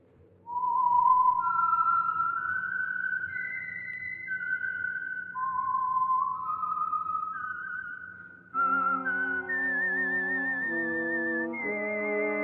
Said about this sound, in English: the signal to listen for is this whistle that identifies the Signal Oil program